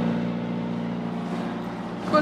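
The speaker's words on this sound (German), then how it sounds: "Kurz vorm Abendessen muss man den Motor wieder anschalten." A sailboat's auxiliary engine runs at a steady idle with an even low throb and mechanical hum along the Pacific coast of Mexico, continuous and close, with a brief knock near the end.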